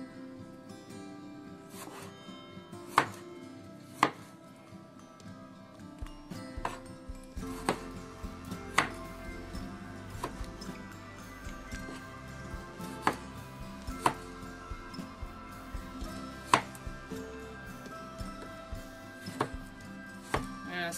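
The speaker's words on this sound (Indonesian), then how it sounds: "tomatnya juga kita iris kasar aja." Knife chopping tomatoes coarsely on a cutting board while preparing sambal Lamongan, a string of sharp, evenly spaced cuts at close range with a steady low background hum.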